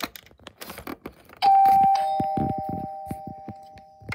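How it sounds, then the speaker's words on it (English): A doorbell rings out with two clear chime tones, one shortly after the other, each lingering and fading over faint rustling. "you did not need to ring the doorbell button"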